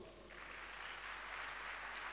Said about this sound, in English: Are you clapping?